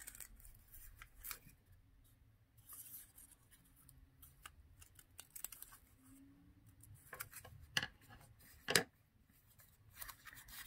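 Scissors snip a few quiet, scattered cuts while dollhouse-scale Clorox-style disinfecting wipes are being made, with small rustles and handling noises between the snips and no talking.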